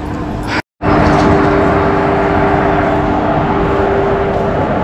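The Antyodaya Express pulls out of a station toward Tambaram in a loud, steady roar with a sustained tonal hum running throughout, heard close by.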